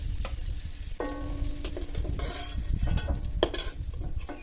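Capsicum lightly frying in a kadai for chicken tawa pulao, a close crackling sizzle with intermittent metal spatula scrapes and clinks against the pan, no talking.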